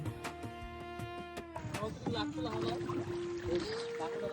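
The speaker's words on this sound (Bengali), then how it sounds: "এবার নৌকায় উঠে পড়লাম চরের উপরে যাওয়ার উদ্দেশ্যে।" Water sloshes and splashes against a small boat's hull as it crosses a river toward a char island, with a steady motor-like drone and scattered knocks, people talking nearby.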